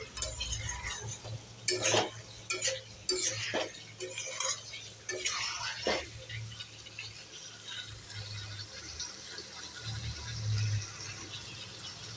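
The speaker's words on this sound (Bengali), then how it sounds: "এই যে দেখো আমি ডিমটাও দিয়ে দিয়েছি। দিয়ে একটুখানি কষিয়ে নিচ্ছি" Egg and partly boiled potatoes frying in a pan, with a spatula stirring and clinking against the metal in irregular bursts over a soft background sizzle.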